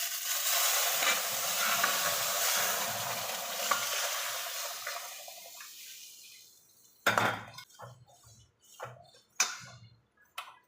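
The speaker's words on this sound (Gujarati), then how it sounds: "હવે હું છાશ આમાં નાખી દઈશ" Boiling buttermilk poured into a frying pan for upma gives a loud, steady sizzling hiss for several seconds that dies away, followed by a few sharp clinks and knocks of utensils against the pan.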